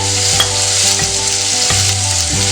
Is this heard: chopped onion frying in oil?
yes